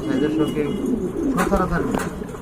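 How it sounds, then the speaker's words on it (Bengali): Large pigeons coo in steady low throaty calls close by, while a person talks over them. "দেখেন কত বড় কবুতর মাশাল্লাহ"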